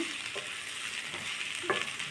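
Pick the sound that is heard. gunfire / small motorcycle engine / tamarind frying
tamarind frying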